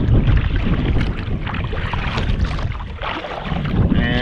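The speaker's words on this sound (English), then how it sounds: "I can see a gust of wind coming right now." A strong gust of wind sweeps across an open reservoir during a paddle trip, roaring steadily and loudly against the microphone along with the rushing wash of water around the boat.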